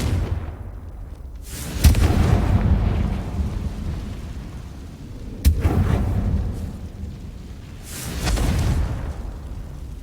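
Confringo spell explosions in the video game Hogwarts Legacy sound as deep, rumbling booms, two sharp blasts with long rolling tails and a third swelling rumble near the end, loud and without talk.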